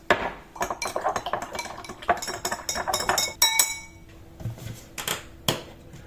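A spoon stirs sugar water for a homemade fly trap, producing a rapid, irregular series of close glassy clinks and taps that thin out toward the end.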